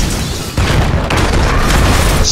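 Sticky bombs detonate in Grand Theft Auto V, producing a loud, sustained rumbling blast that swells suddenly and roars on with dense low-end crackle.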